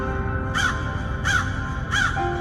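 A cartoon crow in a children's story caws three times at an even pace, each call clear and close over a steady background bed.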